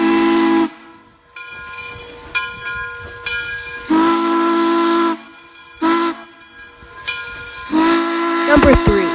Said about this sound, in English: this is the whistle when it's being moved out of its stored spot